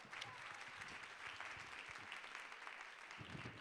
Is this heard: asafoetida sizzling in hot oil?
no